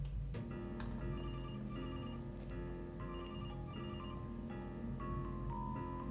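A telephone rings in a repeated electronic ringtone pattern of short tonal bursts, steady and moderately quiet, with no talk.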